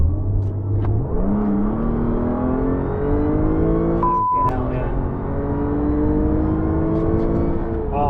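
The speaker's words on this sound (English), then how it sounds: "that supercharger sound is just to die for." Stage 1 tuned Audi S5 accelerating hard from inside the cabin, its supercharged engine whine climbing steadily through the gears with a brief break at a shift, loud and continuous, with a voice talking over the engine.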